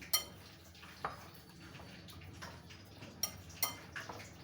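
Spices and cornflour batter for potato fritters are mixed in a bowl, giving a few sharp, scattered clinks of a spoon against the bowl over a quiet background.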